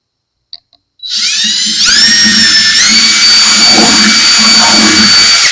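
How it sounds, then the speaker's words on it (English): A high-pitched drill with a small bit whines up to speed and runs steadily while drilling a Taylor 310CE acoustic guitar, a close, loud electric motor whir with faint rumbling underneath. "you start with small drill bits and then work your way up to larger drill bits, one increment at a time"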